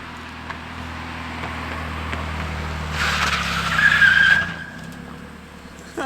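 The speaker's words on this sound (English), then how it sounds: "So as they say when in Mexico, do some e-brake turns." Rental Nissan Versa doing e-brake turns in Mexico: an engine drone swells into a loud burst of tire skidding and squeal lasting over a second, then fades back to running engine noise.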